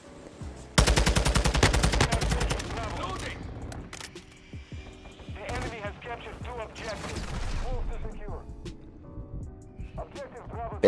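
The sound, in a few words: gunfire shooting at a VTOL in Modern Warfare 2 video game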